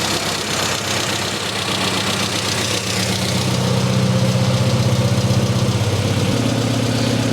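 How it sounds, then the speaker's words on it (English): A car engine with an SU carburettor idles smoothly at close range after tuning to a 13.4 air-fuel ratio, a loud, even throb whose pitch shifts slightly late on. "I can listen to my engine and I can hear it that it's running quite smoothly"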